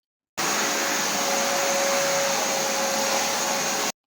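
A household vacuum cleaner with a leaf-blower function runs at close range, giving a loud, steady whooshing roar with a thin high whine that holds level for about three and a half seconds before cutting off.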